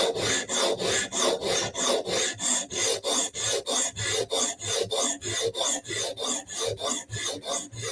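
A Bestech Tanto knife edge is sharpened with steady, rhythmic rasping strokes, about three per second, close and fairly loud, continuing evenly without talk.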